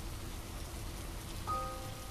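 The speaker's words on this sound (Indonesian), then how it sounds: "Nyatanya hujan malah turun lebat." Heavy rain falls steadily on hard surfaces, a dense, even wash of drops that holds at the same level throughout, with a brief faint tonal note rising over it near the end.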